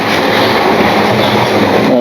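A model railway train runs along its track with a loud, steady rolling rattle and clatter throughout, no voices.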